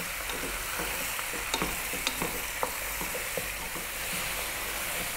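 Lamb frying over medium heat for a rosemary lamb and potato stew, giving a steady, even sizzle with a few soft scrapes and taps from occasional stirring.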